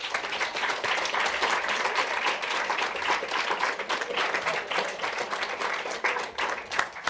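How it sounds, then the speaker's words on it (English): Conference audience at the World Health Summit clapping steadily for a panel, dense sustained applause holding at an even level throughout. "Can we give a big round of applause to our panel?"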